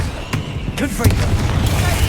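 Confringo blasting curse from Hogwarts Legacy going off as a deep, booming explosion with sharp bursts, followed by a sustained rumble, heard with voices over it.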